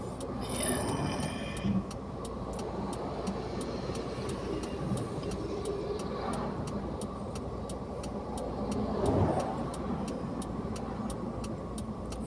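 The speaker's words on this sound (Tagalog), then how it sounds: "So sa ngayon is marami pa pong sasakyan." Car traffic on a highway in Brunei, heard from a moving vehicle as a steady, close road roar that swells briefly, with a regular ticking click running throughout.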